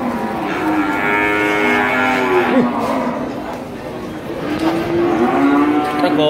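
Limousin cattle at a livestock market give long, loud overlapping moos close by, with a crowd's murmur running underneath.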